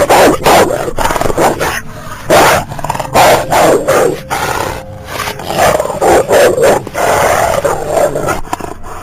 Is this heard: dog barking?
yes